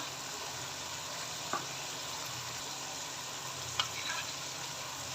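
Ground spices, red chili powder, turmeric, salt, cumin and coriander, frying in a gravy for a potato and fish kabab curry: a steady, soft, close sizzle with a couple of faint scrapes of stirring.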